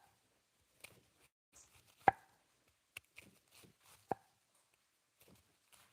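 A knife slices vegetables thinly for cabbage rolls, producing a few sparse, quiet cutting taps against a board with gaps of near silence between them.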